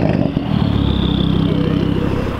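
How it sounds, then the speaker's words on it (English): A motorcycle engine roars loudly and continuously as it revs past nearby at a car meet, with a faint clatter at the start. "we're just getting some flybys at the moment. Lots of revs and stuff."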